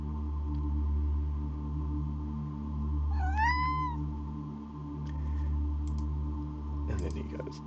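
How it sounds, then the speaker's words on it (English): A cat meows once, a short rising and falling call in the middle of a steady electrical hum, with light clicking and keyboard tapping close by. "So she does a little meow"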